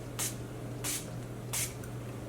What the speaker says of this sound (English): So this, when you spray it,